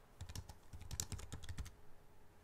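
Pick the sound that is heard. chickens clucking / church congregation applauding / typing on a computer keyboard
typing on a computer keyboard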